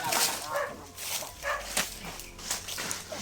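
Several dogs bark and yip in short irregular bursts at fairly close range, mixed with some movement and faint voices.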